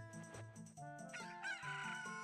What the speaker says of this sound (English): And Kojiro crows when we come into the Lost Woods.